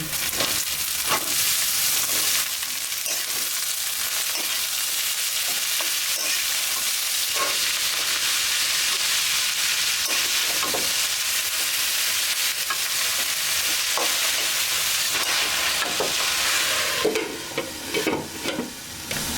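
Continuous loud sizzle of vegetables frying in a pan with oil, ginger paste and garlic paste, with scattered stirring scrapes and knocks throughout and no talking.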